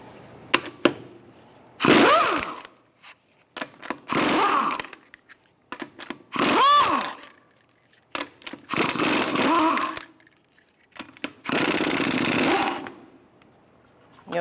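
An impact gun on a 21 mm socket removes the front lug nuts of a 2013-2018 Toyota RAV4. Loud, close bursts of ratcheting rattle a second or so long repeat several times with short gaps between them.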